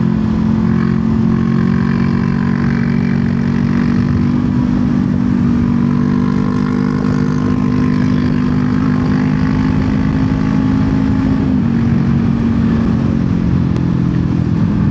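A Honda CBR500R motorcycle pulls out of a bend, its engine droning steadily and loud at close range with a low rising tone throughout, with wind rushing constantly over it.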